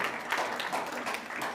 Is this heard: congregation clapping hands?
yes